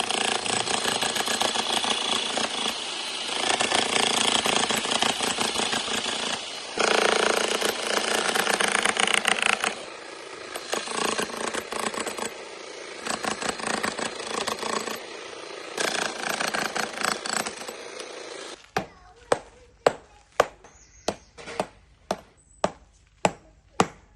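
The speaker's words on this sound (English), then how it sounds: "drilling out that arch so that it goes all the way through the stone" A loud, continuous mechanical grinding roar of a drill boring an arch through a single block of stone, with brief pauses, then a run of sharp, evenly spaced knocks near the end.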